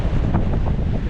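Strong wind buffets the microphone on the seashore at Fleetwood, a loud, steady roar with low rumbling gusts and surf mixed in, with no voices.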